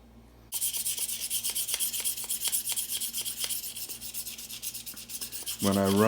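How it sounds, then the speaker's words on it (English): Knife blade sharpened on a sharpening stone, drawn along it in linear strokes: steady close rasping rubs in a quick regular rhythm, alone with no talk. "now I just touch it up with my sharpening stone"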